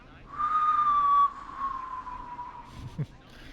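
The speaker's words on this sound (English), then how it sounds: "Unconvincing whistling." A caller in the Killer Frequency video game whistles unconvincingly, a wavering, slightly sliding tone held for about a second and then trailing off, with a soft knock near the end.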